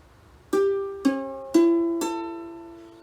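Ukulele strummed too slowly, four separate chords spaced about half a second apart, each strum spreading out and ringing clearly before decaying, alone and close up.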